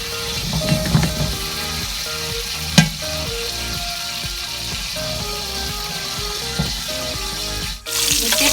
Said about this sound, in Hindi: सबसे पहले हम कर लेंगे मिर्चों को फ्राई थोड़े से नमक के साथ।